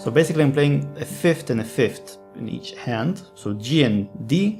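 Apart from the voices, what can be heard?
None of the usual background noises is heard.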